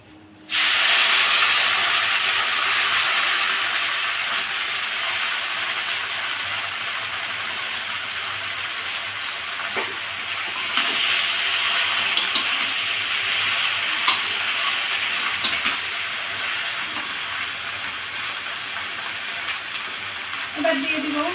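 Jute leaf greens frying in hot oil in a pan, a steady loud hiss and sizzle throughout with occasional scrape and stir clicks, no talking.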